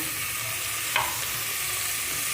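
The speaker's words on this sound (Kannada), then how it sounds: "ಇದು ಈರುಳ್ಳಿ ಚೆನ್ನಾಗಿ ಫ್ರೈ ಆಗಬೇಕು" Onions frying in oil for a mutton sambar tempering, a steady close-up sizzle with one brief scrape or stir partway through, no voices.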